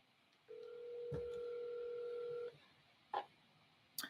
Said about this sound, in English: I'm going to call Mr. Brendan.